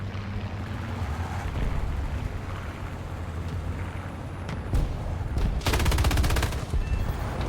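Tank guns fire in a British tank video game battle: scattered sharp reports over engine rumble, then a dense rapid burst of shots that stops abruptly.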